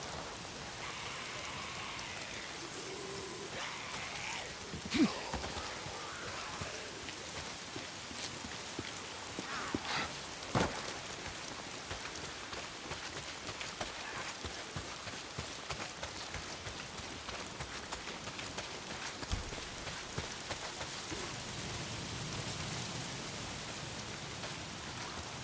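Steady rain in the Days Gone video game, a continuous hiss of drops on surfaces with occasional louder thuds and knocks throughout.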